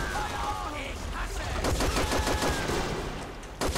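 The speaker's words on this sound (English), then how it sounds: "I'm already getting some fire over here" Gunfire in the WWII strategy game Men of War: Assault Squad rattles as a dense stream of overlapping shots and bursts. It runs under battle noise and radio-like tones, with a voice faintly present.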